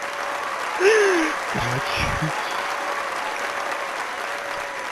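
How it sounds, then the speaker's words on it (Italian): Audience applause on a live Italian show, steady crowd clapping with a brief voice speaking over it near the start, continuing evenly throughout. "Applauso, applauso. Pubblico applaudite."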